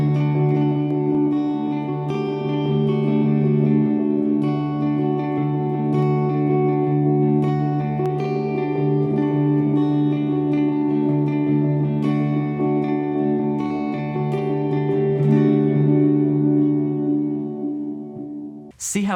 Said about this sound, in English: here is that same chord progression, that same example with reverb